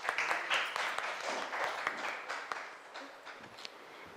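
Soft, distant applause from an audience as a dance troupe is welcomed onto a stage, a steady patter of many hands that slowly thins.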